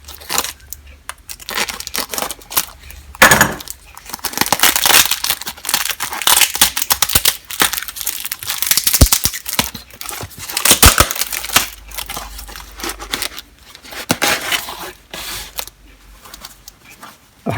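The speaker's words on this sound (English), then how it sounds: "So let's open it up and see what Andy sent us" Packaging from a mailed parcel containing fabric is torn and crumpled open, giving loud, continuous crinkling and ripping bursts close by with no one talking.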